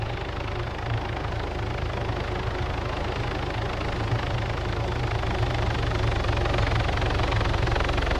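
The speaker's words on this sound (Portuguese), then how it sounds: "Tem helicóptero em cima, velho." Helicopter flying overhead in the Arma 3 video game, a steady loud rotor and engine drone with low thumping that holds throughout without any talk.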